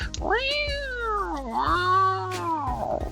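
A person imitates a cat meow: one long, drawn-out mew that rises, dips, then swells again before trailing off, close and fairly loud.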